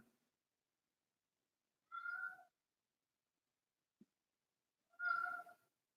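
A pet cat gives two separate meows a few seconds apart, faint and somewhat distant, with a tiny tap between them in an otherwise quiet room.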